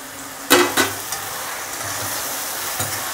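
Tomato is added to a pan of fried chilli, onion and garlic and sizzles steadily, with a few sharp clacks of a spoon against the pan.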